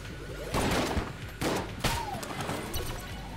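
Bursts of rapid weapon fire in Enter the Gungeon, several loud volleys of shots with short gaps between them and a faint descending tone in the middle.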